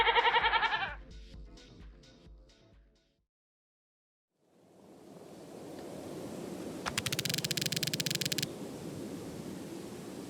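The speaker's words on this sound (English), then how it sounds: "Goat." Goat bleating in the video game Critters For Sale, a short series of loud, repeated bleats, then silence, followed by a steady hiss of noise with a brief harsh burst.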